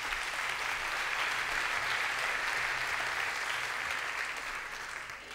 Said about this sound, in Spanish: un aplausito para él